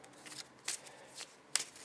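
Event cards from a Monopoly Ultimate Banking board game being shuffled by hand, a few short riffling bursts, close and fairly quiet, with no talking.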